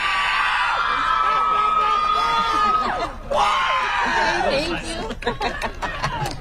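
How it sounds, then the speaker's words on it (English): A graduation ceremony crowd at Revere High School cheers and screams for a graduate, loud whoops and laughter over a sustained roar, thinning into scattered claps and shouts toward the end. "You gotta cheer that loud for him."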